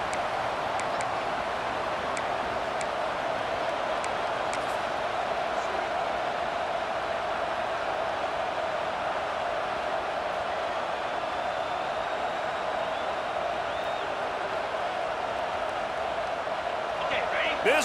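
Stadium crowd roar from EA Sports College Football 26, a steady dense wash of noise filling a loud game-day den near the red zone, sustained evenly throughout with no break.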